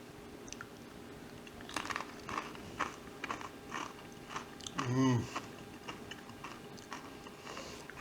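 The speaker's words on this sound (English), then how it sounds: "So let's see how it tastes on a corn chip." A corn chip topped with homemade cream cheese gives one sharp, close crunch midway, followed by faint chewing against a quiet room.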